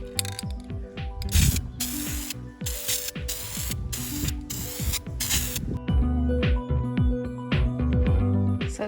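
Aerosol spray paint hisses in repeated short, loud bursts onto a foam cemetery sign, mixed with rattling, clicking handling noises between and after the sprays.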